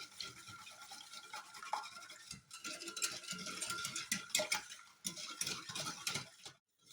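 A spoon stirs coffee and condensed milk in a saucepan for a homemade liqueur, making a soft, quick, rhythmic scraping and ticking against the pot that stays fairly faint and close.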